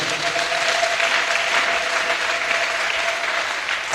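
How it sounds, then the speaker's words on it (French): A church congregation applauds steadily, dense clapping filling the whole stretch at a fairly loud, even level with no voices standing out above it. "Acclamons les propriétaires."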